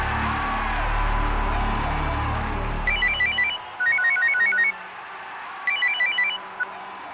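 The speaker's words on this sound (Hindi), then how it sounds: "डिकिंसन को फोन लगा।" A telephone rings in repeated electronic trilling bursts after a low hum fades, three clear ring cycles at moderate volume.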